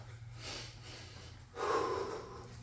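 Deep breaths during a garage workout: one long exhale, a short pause, then a stronger, rougher breath, heard up close over a low room hum.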